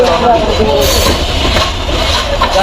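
A train pulls in at a Bangladeshi station on the Dhaka to Panchagarh route, a steady loud rumble of rolling wagons with faint wheel clatter filling the whole stretch, and people talking in the background.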